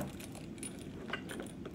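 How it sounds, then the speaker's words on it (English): Keys jangle and clink inside a small St. John pouch as it is rummaged through, a soft, continuous metallic rattling up close with bright little chimes throughout, no voices. "my keys,"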